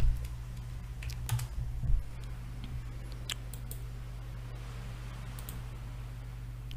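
Rapid keystrokes on a computer keyboard clatter in uneven bursts and single clicks over a steady low hum, fairly near and moderately loud, with no one talking.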